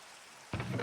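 Rain begins partway through in the Minecraft video game, a steady broadband hiss of falling drops that rises suddenly from near quiet and stays fairly soft, with no voices.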